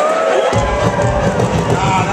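A New York crowd at a hip hop NBA 2K10 release event breaks into loud cheering and hubbub that starts abruptly and sustains, a dense roar of many voices.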